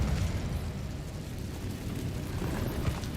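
An Incendio fire spell from the Hogwarts Legacy video game makes a loud, sustained roaring whoosh of flame that holds steady for a few seconds.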